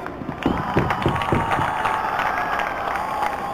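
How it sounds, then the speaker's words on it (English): Audience applause and cheering fill a hall at a college cultural festival ahead of a fencing match, with a burst of sharp claps early and steady crowd clapping continuing throughout. "A big round of applause please"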